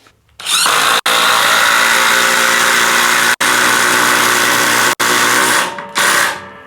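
A DeWalt DCF845 20V XR impact driver with a DeWalt bit drives a 4-inch deck screw: a loud, steady, buzzing rattle of impacts lasting several seconds, broken by a few instant gaps, then winding down.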